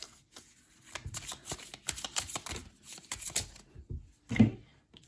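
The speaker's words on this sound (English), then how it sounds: "So I'm going to shuffle this deck right here" A tarot card deck is shuffled by hand close up, with quick riffling bursts and soft clicks in a rapid uneven rhythm, then a pause and a final tap.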